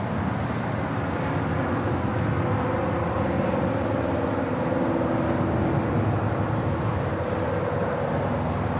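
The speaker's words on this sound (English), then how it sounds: "Also, the big Q, the second flight of the day, the A350 1000, heading to 25 right." An Airbus A350-1000 jet airliner taxis toward runway 25 right at LAX, its engines giving a steady, loud broadband roar with a low rumble that holds constant throughout.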